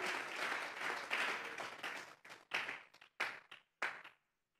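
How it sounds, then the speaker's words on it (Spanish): A church congregation claps in applause offered to God, starting as dense, sustained clapping that thins into a few separate bursts before fading to silence. "vamos a regalarle ofrenda de palmas al Dios de la gloria"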